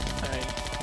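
An Uzi fires in the video game Zombie Panic in Wonderland, a short, rapid automatic burst of evenly spaced cracks that is fairly loud and close.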